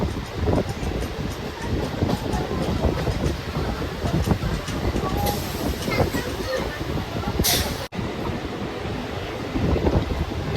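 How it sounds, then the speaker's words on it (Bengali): A Howrah–Bardhaman main line local train pulls out of Shaktigarh station, its steady rumble and rushing air noise continuous and close, with heavy wind buffeting the microphone. "নির্ধারিত সময় থেকে 15 মিনিট লেটে আমাদের ট্রেন ছেড়ে দিল শক্তিগড় স্টেশন থেকে।"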